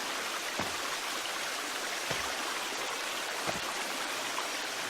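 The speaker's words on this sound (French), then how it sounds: "Là, il y a une cascade ici." Steady broadband rush of a waterfall in the survival game The Forest, continuous and fairly loud with a few brief faint knocks, no voices.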